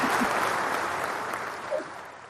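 Audience applause on a radio talk show, a steady wash of clapping at moderate level that slowly tapers, with a brief voice or cheer poking through near the end.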